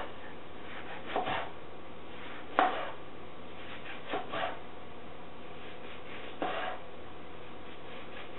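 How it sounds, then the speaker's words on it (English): An orange being sliced with a knife on a cutting board: four separate cutting strokes, each a short scraping chop against the board with quiet pauses between them. "I'm going to slice this"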